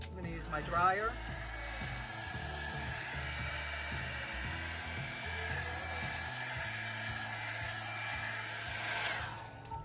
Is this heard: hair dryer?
yes